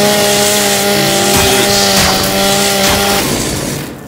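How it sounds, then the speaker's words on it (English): The Lancer rifle's chainsaw bayonet revs in Gears of War 5, a loud, sustained buzzing motor whine held for several seconds and then fading at the end. "Just pull a chainsaw out of your gun."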